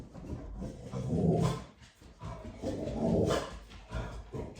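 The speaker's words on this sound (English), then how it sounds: "that's my dog there" A pet dog named Chico barks and pans close by indoors, with bursts of rough, breathy sound rising and falling in two long waves.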